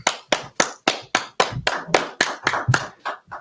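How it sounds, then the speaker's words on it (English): A class claps hands together in a steady rhythmic pattern, about a dozen sharp, loud, evenly spaced claps close by with nothing else over them. "All right, clap it up."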